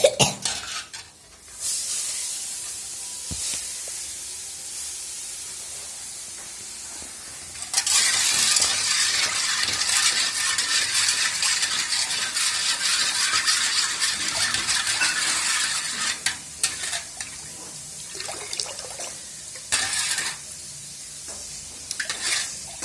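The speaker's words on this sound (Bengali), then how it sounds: "এখন আমি এখানে শরবত গুঁড়া দিচ্ছি।" A spoon swirls sherbet powder into a drink, a long run of close, hissy stirring with faint clinks against the glass, starting quietly and growing busier and louder partway through, with no talk.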